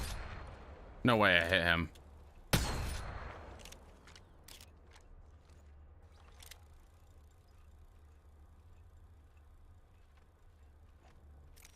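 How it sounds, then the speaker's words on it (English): Fuse's knuckle cluster launcher firing in Apex Legends, a sharp close blast early on followed by a scatter of brief popping cluster detonations that fade to quiet, with a voice speaking briefly near the start. "Launching me knuckle cluster. Stand back, knuckle cluster's firing."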